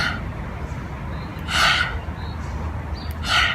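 A deep breath taken during a yoga breathing exercise: two sharp, noisy inhalations or exhalations through nose or mouth, about two seconds apart, close to the listener over a low background hum.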